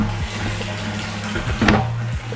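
Water pours into a Penguin 1000 litre plastic water tank with a steady gushing, splashing flow, fairly close and even, with a brief louder splash near the end and no talk.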